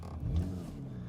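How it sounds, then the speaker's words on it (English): Porsche 992 911 GT3 Touring in Mizan Blue, its naturally aspirated 4-litre rear engine catching and firing up with a brief low rumble and rising rev, fairly close. "I'm just going to start this up."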